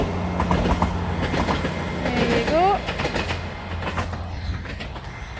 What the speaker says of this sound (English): let's see a train going over the bridge here just now.